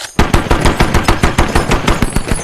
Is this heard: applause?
no